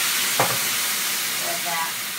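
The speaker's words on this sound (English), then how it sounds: "I think I'll go ahead and do a little simmer fry." Vegetarian sausage and peppers simmer-frying in a pan give a steady close sizzle and hiss, with a brief stir or clatter near the start.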